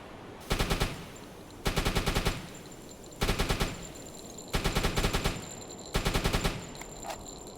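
Five evenly spaced bursts of rapid deck-gun fire from a submarine in the naval game Youboat, each volley a tight, loud rattle of repeated shots separated by short pauses.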